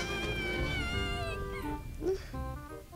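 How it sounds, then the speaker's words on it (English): A high, wavering scream from inside the Metal Gear Solid game, close and sustained, with a cat-like yowling tone that rises and falls over a few seconds. "Wait, it was a high-pitched scream."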